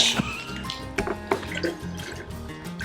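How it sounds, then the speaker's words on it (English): Fresh lime juice drips and splashes into a drink, a series of small irregular liquid drips and patters heard close up without talk. "you've got to put some 2 lime limes, juice. so splash lime. Some lime juice. Yep. Real squeezed lime juice."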